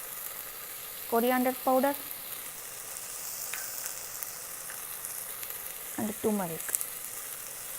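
Dry spice powders of coriander, turmeric, fennel and cumin fry in an Instant Pot for shrimp curry, a soft steady sizzle running throughout while a voice speaks in two short bursts over it.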